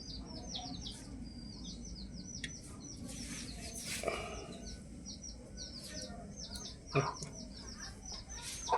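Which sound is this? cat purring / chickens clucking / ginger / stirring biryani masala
chickens clucking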